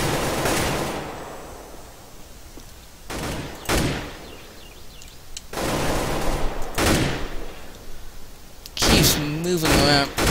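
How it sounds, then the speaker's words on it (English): Sniper rifle fire in Counter-Strike: Global Offensive: several loud, sharp shots spaced a few seconds apart, with game ambience and a faint voice in between. "I'm going to go up here and do some sniping."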